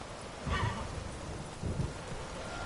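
Horse riding in The Witcher 3 video game, with two soft thudding bursts of hoofbeats about a second apart over a low steady rumble, fairly quiet.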